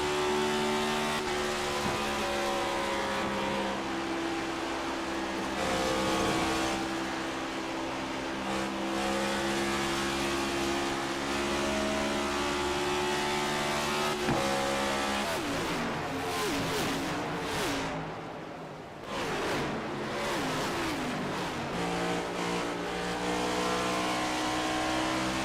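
Race car engines roar continuously through a Cup Series sim racing game at Darlington, with steady loud engine drone, shifting revs and a brief dip around a turn, as cars run close together in lap traffic.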